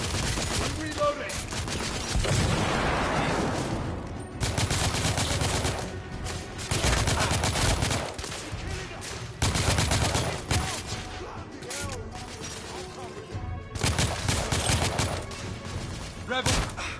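Sustained gunfire from The Order 1886 video game, bursts of automatic fire and shots rolling on continuously for the whole stretch, loud and dense, with shouting voices mixed in amid the battle.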